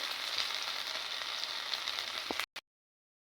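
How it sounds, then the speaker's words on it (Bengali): Mustard, cumin, chili paste, salt, turmeric and spices fry in a pan with a continuous, even sizzle that cuts off abruptly after a couple of seconds, leaving near silence. "মশলাগুলো 2 মিনিট কষিয়ে নেব"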